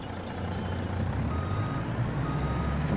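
Truck in Farming Simulator 22 backing up a trailer, with a steady engine rumble filling the clip and reversing beeps faintly marked above it, continuous and fairly loud.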